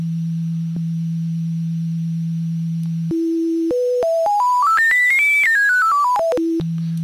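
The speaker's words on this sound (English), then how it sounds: "we're going to go to a regular old sine wave and start." A pure sine tone from a Fairlight CMI V synthesizer holds a low pitch, then steps upward note by note to a high peak and back down again, clean and alone.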